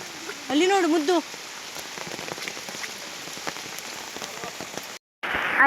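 Heavy forest rain hisses densely and steadily; a short burst of voice sounds early on, then the rain continues with a brief dropout near the end.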